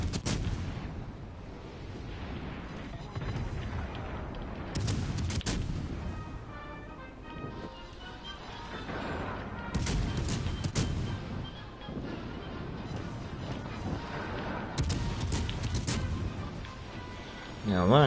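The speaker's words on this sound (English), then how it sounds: "Now that is obviously what was going to cause me pain, is 8-inch guns." 8-inch naval guns firing in World of Warships: several heavy broadband booms spaced a few seconds apart, loud and close, with a person talking between the salvos.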